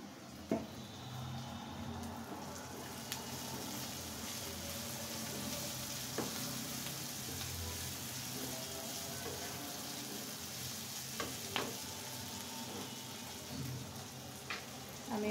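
Marinated bitter gourd fries gently in oil, producing a continuous soft hissing sizzle with occasional light pops and utensil clicks scattered through.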